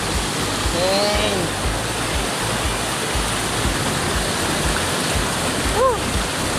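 Small waterfall at Baliti lake rushing steadily as a broad, continuous wash of water noise, with brief excited voices and shouts rising above it.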